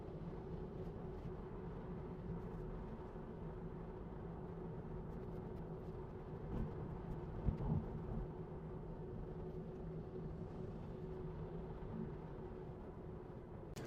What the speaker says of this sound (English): we are merging onto Highway 17, and this begins our highway drive